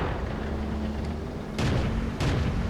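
Two loud, close tank cannon shots boom out in World of Tanks, about half a second apart, over a steady hum of engine and game ambience, with no one speaking.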